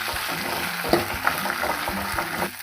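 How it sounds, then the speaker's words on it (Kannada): Coriander leaves and grated coconut frying in a pan for a village-style greens bassaru, a steady close sizzle broken by a few stirring scrapes, with no talk. "ಸ್ವಲ್ಪ ಕೊತ್ತಂಬರಿ ಸೊಪ್ಪು, ಸ್ವಲ್ಪ ಕಾಯಿ. ಇದನ್ನು ಇವಾಗ ನಾವು ಚೆನ್ನಾಗಿ ಫ್ರೈ ಮಾಡ್ಕೊಳ್ಳೋಣ"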